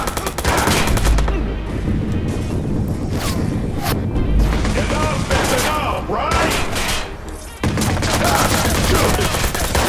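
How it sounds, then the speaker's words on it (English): Rapid, continuous gunfire in the video game Watch Dogs crackles throughout, dense bursts of shots and booms with voices occasionally talking underneath. "I killed him with regular gunfire."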